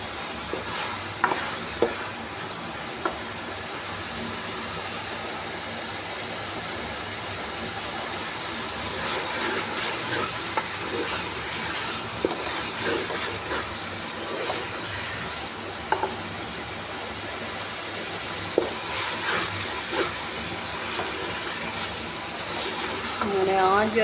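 Cauliflower masala (gobi masala) is stir-fried in a pan with a steady close sizzle and repeated scraping stirs that continue throughout.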